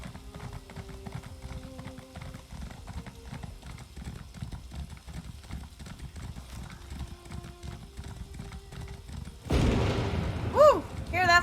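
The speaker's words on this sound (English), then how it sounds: "Hear that thunder." Thunder rolls in the Elder Scrolls Online game world, a broad rumbling boom near the end after a long stretch of horse hooves clip-clopping, with someone talking at times.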